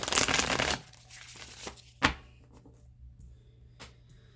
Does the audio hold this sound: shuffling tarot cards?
yes